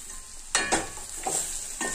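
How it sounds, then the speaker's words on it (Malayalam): Green chilies and fresh coriander leaves fry for a chicken biryani, giving a soft sizzle broken by a few sharp spoon scrapes and stirring bursts, fairly close, with no talking. "ഇതോടൊപ്പം തന്നെ ഇതിലേക്ക് വേണ്ട പച്ചമുളകും ഇട്ട് കൊടുക്കണം"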